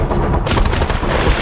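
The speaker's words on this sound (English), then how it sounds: "Gunfire erupts." Gunfire in an action film, a dense, loud roar of overlapping shots and booms with no clear gaps between them.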